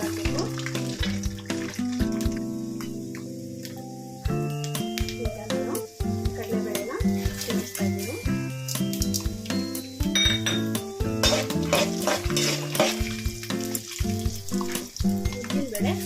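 Peanuts fry in a pan and are stirred for lemon rice, with a busy sizzle and frequent scraping and clinking of the utensil against the pan, steady and close throughout.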